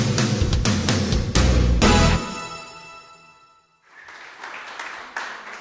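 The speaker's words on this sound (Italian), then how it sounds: "L'applauso è poco convinto" Applause from the audience at a talk on UX design: dense clapping at the start that fades into a ringing musical tail, followed by a faint, sparse patter.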